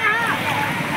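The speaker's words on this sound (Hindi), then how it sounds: "पूरा स्पीड में पानी निकल रहा है।" Ganges floodwater rushes fast across a national highway with a steady, loud roar of flowing water, while a voice carries faintly over the flood.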